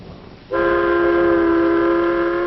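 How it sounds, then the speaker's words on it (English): An elevated train in New York runs along its track while a loud, sustained whistle-like horn tone starts abruptly and holds steady over rolling rail noise. "Ride the elevated train, all the way from the Battery far uptown."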